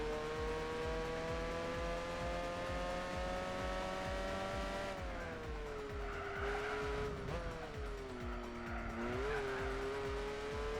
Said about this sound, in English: Rev up the Bugatti.